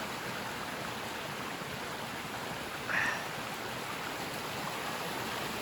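Steady broadband rush of creek water flowing through Kentucky backwoods among large sycamores with eroded, exposed roots, continuous and moderately near with a brief brighter splash midway, no voices.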